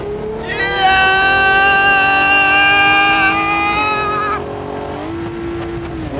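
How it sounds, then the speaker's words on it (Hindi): Loud, sustained car engine whine in BeamNG.Drive rising in pitch, a high-revving motor that drops back as the gears shift, with no other sounds over it. "ये गाड़ियों का आवाज मेरे को बहुत पसंद होता है।"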